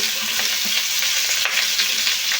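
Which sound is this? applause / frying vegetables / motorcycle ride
frying vegetables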